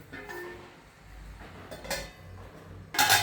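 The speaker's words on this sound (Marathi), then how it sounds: "त्याच्यावरती झाकण ठेवायचं" Metal lid set onto a cooking pot of potato and onion stir-fry on a low gas flame, giving a few light clinks and a sharper clatter at the end, close and alone.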